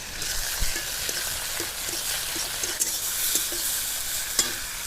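Tomatoes added to frying onions in a pan, a close steady sizzle with scattered scraping knocks of a spoon stirring, no voices.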